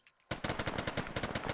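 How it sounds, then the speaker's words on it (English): Rapid machine gun fire in a video game bursts in after a quiet moment, a dense, loud string of close shots in an even, fast rhythm. "Oh, gunshots."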